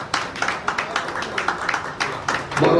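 A crowd at an Azad Samaj Party gathering claps to welcome a speaker, with sharp rhythmic group claps in a steady pulse, fairly close, building into a denser burst at the end.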